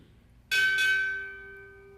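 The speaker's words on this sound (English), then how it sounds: "Bell ringer, strike 2 bells." At a Navy chief petty officer pinning ceremony, a ship's bell is struck twice in quick succession, two bright metallic clangs about a third of a second apart whose ringing tone lingers and slowly fades.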